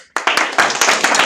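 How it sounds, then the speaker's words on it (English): Meeting attendees at a housing chapter meeting break into brief applause for a new member, a dense burst of many hands clapping close by for about a second. "so maybe we can clap"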